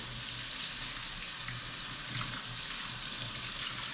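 Barber combs are rinsed under a running tap, a continuous close gush of water with slight splashy variation and no talk.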